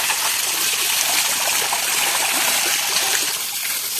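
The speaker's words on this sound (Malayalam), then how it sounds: "വെള്ളം അടിച്ച് വെള്ളം അടിച്ച് കുളിപ്പിക്കണം" Water sprays hard from a motor-driven pump hose while a buffalo is bathed, a continuous loud rushing hiss with splashy texture held steady throughout, close by.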